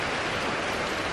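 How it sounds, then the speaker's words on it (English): Rain pours steadily in Bali near Leke Leke Waterfall, a dense, even hiss of falling water with no breaks, loud and close, with no voices. "the rain has started just in time for us to relax and take it easy for the rest of the afternoon"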